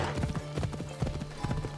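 Horse hooves clip-clopping at a steady trot in Assassin's Creed Odyssey, a quick run of close, distinct thuds.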